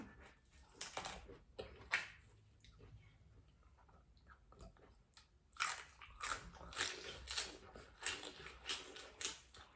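Someone bites and chews a large mouthful of raw fresh pork liver, with wet, crunchy close-up chewing bursts coming in irregular clusters, louder and denser toward the end, with a quieter stretch in the middle.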